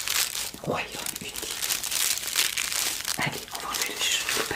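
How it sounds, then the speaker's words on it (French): Paper wrapping crinkles and tears continuously as it is pulled away, with soft rustling throughout and a few quiet vocal sounds in the background. "on va enlever le papier"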